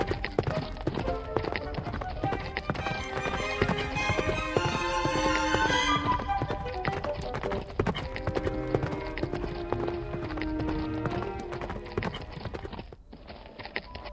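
Hooves of wild Nevada mustangs, stallions and mares, clip-clop steadily and close over a continuous bed of movement, with a busy, dense texture of overlapping footfalls throughout.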